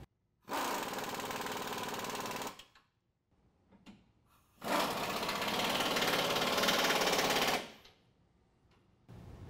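Power tool tightening lift kit bolts on a 2014-2017 Chevy GMC 1500 4WD, two loud sustained bursts of buzzing rattle several seconds each, separated by quiet gaps with small clicks.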